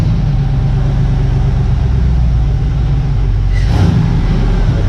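An engine in a KwaZulu-Natal car collection runs with a heavy, low rumble close by, holding a steady idle before a brief rise in revs near the end.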